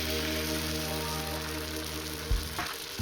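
Pitha batter, a ladleful for patishapta, sizzles on a hot oiled griddle, a steady close frying hiss with a brief clatter near the end.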